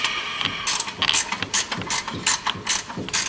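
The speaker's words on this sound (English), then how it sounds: "Loosen off the alternator." A ratchet wrench loosens the alternator on a 1975 Ford tow truck, giving rapid, loud clicking bursts in an uneven rhythm, close up with no talk.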